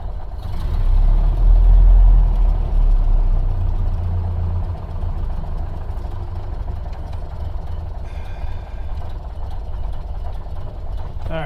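A Model A Ford engine idles steadily after its first start, a loud, continuous low rumble with no break, slightly stronger at the start and then holding even; occasional faint voice-like sounds sit under it.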